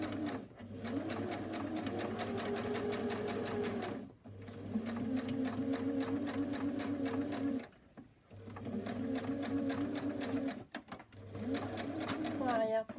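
Sewing machine stitching a fabric face mask, fast continuous whirring runs broken by short pauses, near and steady, with a voice speaking softly underneath.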